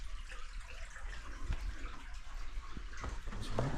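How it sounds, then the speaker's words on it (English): Mystery River flowing underground in Cathedral Caverns makes a quiet, steady watery rush with a few soft splashes and drips, low and faint throughout. "There's the Mystery River."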